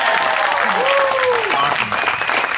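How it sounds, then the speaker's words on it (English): A crowd at an alumni dinner claps in a round of applause, loud and close, with cheering and a voice calling out over the clapping. "Everybody give Eli a round of applause or something"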